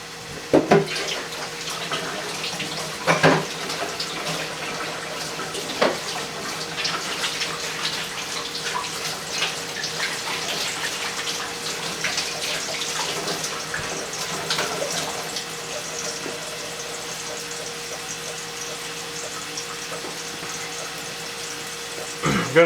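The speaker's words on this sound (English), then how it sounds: "Okay, gonna wash my hands." Water runs steadily from a kitchen tap during handwashing while a burger cooks nearby, a close continuous splashing rush lasting over twenty seconds with a few brief knocks and no talk.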